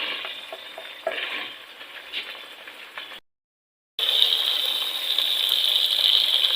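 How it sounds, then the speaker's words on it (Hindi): Steady sizzling of garlic-ginger paste frying in hot oil, with light stirring scrapes. The sound cuts out briefly, then returns louder and brighter. "लहसुन अदरक के पेस्ट को भी हमने 2 से 3 मिनट जो फ्राई कर लिए।"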